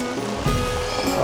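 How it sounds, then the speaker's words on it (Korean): Steady rain patters on a camping tent during a solo camping trip, a dense, continuous hiss with no break. "자기 전에 짐 좀 정리하려고 했는데 비도 계속 오고"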